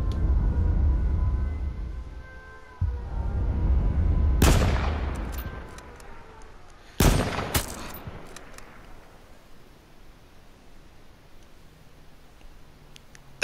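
Gunfire in the video game H1Z1: Battle Royale, heavy low rumbling of shots at the start, then sharp bursts of shots, the loudest pair close together, before fading to quiet ambience.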